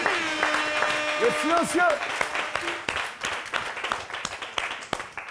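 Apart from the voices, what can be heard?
audience applause for a comedian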